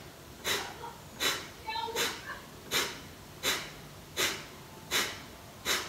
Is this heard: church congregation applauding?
no